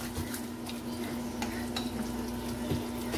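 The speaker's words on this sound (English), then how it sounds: "Just mix that and get it ready for frying." Tri tri cake batter being stirred in a bowl before frying, soft wet scraping strokes with a few light clicks and a steady hum underneath, no talking.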